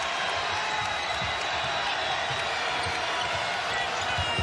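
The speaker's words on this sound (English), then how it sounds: "Crowd is up." A basketball arena crowd at a tied Maryland versus Wisconsin NCAA men's game rises and cheers, a dense, loud, continuous roar with a ball bouncing beneath it.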